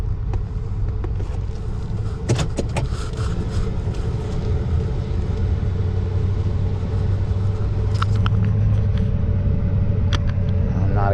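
Car driving along a road near Cunningham Falls State Park in Thurmont, Maryland, heard from inside as a steady low rumble of engine and tires, with occasional light clicks and bumps over the continuous drone.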